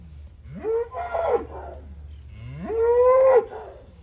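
Two long, deep moos from Angus cattle close by, each rising and then holding, with a short pause between them and no talk.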